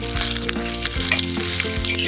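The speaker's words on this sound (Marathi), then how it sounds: "आपल्या मिरच्या जिरे शेंगदाणे लसूण हे चांगलं रोस्ट होत आहे" Green chillies, cumin, peanuts and garlic roasting on a hot griddle for thecha, a dense, loud, continuous sizzle and crackle with light stirring, heard alone.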